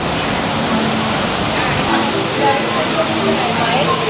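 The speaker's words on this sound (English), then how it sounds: "Beautiful waterfall." Steady broadband rush of falling water, loud and continuous, from a waterfall close by inside the Georgia Aquarium, with faint voices underneath.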